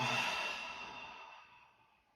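A deep, slow exhale during a seated chair yoga session, a single long breathy sigh that starts full and fades out gradually, close to the mic.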